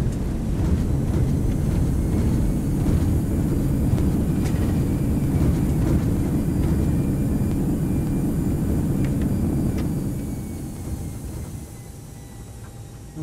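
Roar of a ToLiss A319 airliner's thrust reversers just after touchdown in the X-Plane 11 flight simulator, on landing at Newcastle. A steady, loud, broad engine rumble fills most of the stretch, then eases off near the end.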